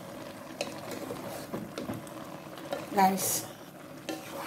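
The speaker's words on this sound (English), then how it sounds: "Stir everything together" Vegetables with unripe plantain are stirred in a pot, a soft, steady scraping and shuffling with a brief louder clatter near the end, while a voice talks over it.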